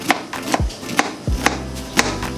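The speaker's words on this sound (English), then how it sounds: "so when you chop the onion here" An onion being chopped into small pieces on a cutting board for lentil soup, sharp knife strikes landing in an uneven series of distinct thuds, close and clear with no speech.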